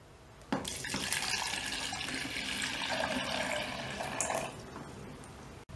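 Water pours in a steady splashing stream into a Baby Alive toy washing machine for about four seconds. It starts abruptly and tapers off, and it is close and fairly quiet.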